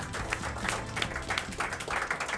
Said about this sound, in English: you really deserve a whole round of applause